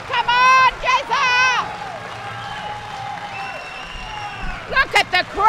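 A crowd at the 2017 World Classic Powerlifting Championships roars and shouts for a 120+ kg open-class lifter, with loud yells at the start and again near the end over a steady background din.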